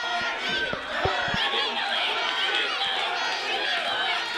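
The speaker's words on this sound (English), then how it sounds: "Crowd getting behind Buggy Wright." Crowd noise from an arena in the wrestling video game Wrestling Evolution Aggression, a steady roar of cheering and chatter with a commentator talking over it throughout.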